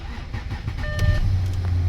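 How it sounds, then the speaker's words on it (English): An Audi Q7 that would not start finally cranks and fires, a short chime sounding just before the engine catches and settles into a steady low idle, close by. "Now I can start the car."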